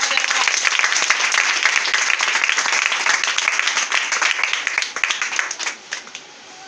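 A church congregation applauds and cheers in praise of the Lord: sustained, dense clapping with voices mixed in, loud and steady before thinning out toward the end.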